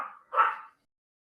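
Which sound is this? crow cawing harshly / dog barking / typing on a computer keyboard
dog barking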